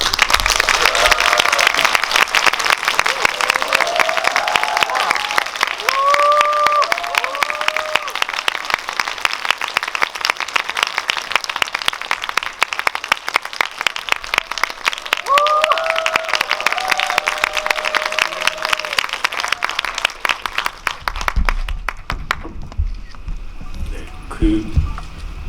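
Loud, dense audience applause fills a cinema auditorium as the director and actors are welcomed to a film screening Q&A. Brief whoops rise over it, and the clapping thins out and fades near the end.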